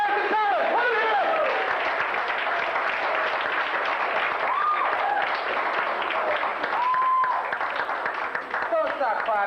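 A comedy club audience at the La Jolla Comedy Store claps and cheers in a dense continuous wave of applause, with a host's voice talking over it and crowd whoops rising and falling.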